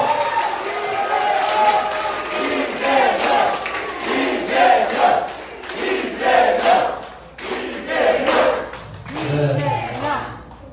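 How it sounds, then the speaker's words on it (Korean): A crowd at a Democratic Party rally in Chuncheon roars and chants in loud, surging waves to welcome party leader candidate Lee Jae-myung, with a few claps mixed into the steady cheering. "큰 박수와 환호로 모셔주십시오"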